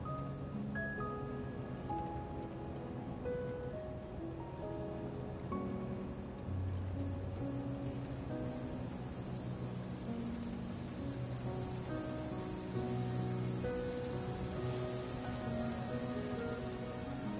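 Steady video game rainfall in Genshin Impact, pattering on surfaces, continuous and even, with soft tonal music-like notes drifting underneath.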